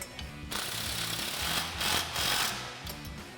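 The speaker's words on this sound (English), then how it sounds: "take your 18mm swivel socket and an 18mm wrench and tighten this down" An 18mm swivel socket and wrench tighten a nut while installing a Rough Country 3.5-inch suspension lift on a Jeep Gladiator JT, making a close, rapid, buzzing ratchet-like clatter in a few bursts with brief pauses.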